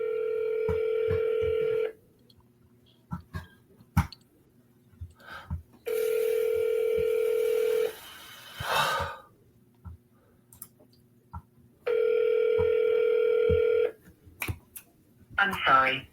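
Repeated ringback tone of an outgoing phone call: three long steady two-second rings with silent gaps, plus scattered clicks and brief bursts of room noise between them.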